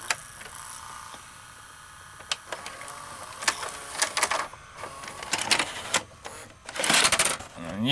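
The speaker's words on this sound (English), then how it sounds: "Just eject the tape." Sony SLV-N51 VCR ejecting a tape: close mechanical whirring, clicks and clunks building over several seconds as the cassette mechanism runs, with a louder motorised rattle near the end.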